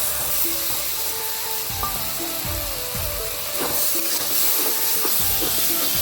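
Onion paste, garlic paste and turmeric fry in hot oil for a Bengali koi fish curry, giving a loud, steady sizzle and hiss with occasional stirring scrapes.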